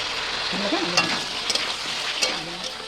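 Cumin and green chili paste frying in a hot pan produces a loud, continuous sizzle up close, with a few brief sharper crackles and pops rising above the steady hiss.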